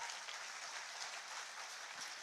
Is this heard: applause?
yes